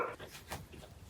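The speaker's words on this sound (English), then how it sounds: "my dogs are fighting and they're fighting with the neighbor's dogs" Several dogs fighting with a neighbor's dogs in winter-storm weather, a brief burst of snarling and yelping barks, fairly distant and muffled, with faint talk underneath.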